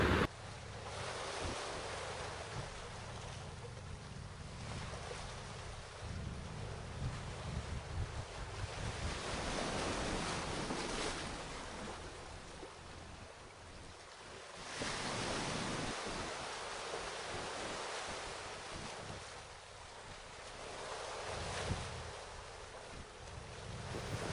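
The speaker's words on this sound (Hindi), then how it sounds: "मुझे सी का आवाज़ सुनाई दे रहा है" Sea waves near the Ross Island lighthouse, surf washing in with a continuous rushing hiss that swells and recedes, mixed with gusty wind buffeting the microphone, and no talk.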